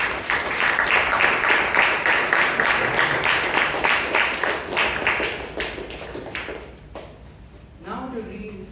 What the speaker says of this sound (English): a loud round of applause to our secretary